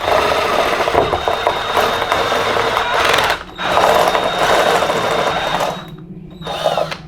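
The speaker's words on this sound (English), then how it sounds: "I use this step drill to do the holes for the Nutserts. It's a 7mm hole." A step drill bores 7mm holes for rivnut nutserts during a Nissan 350Z Rocket Bunny spoiler install, giving a harsh whirring, grinding whine in three close bursts separated by brief pauses.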